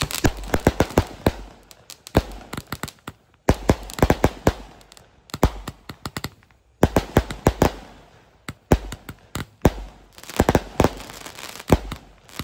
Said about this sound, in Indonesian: Oke teman, Basoka Roman Candle siap kita nyalakan.